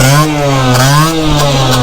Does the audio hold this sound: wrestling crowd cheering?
no